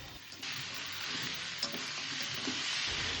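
Mutton stir-fried in a pan with ginger-garlic paste and tomato gives a steady, fairly loud sizzle and hiss that runs throughout. Faint scraping of stirring shows up now and then, and no one speaks.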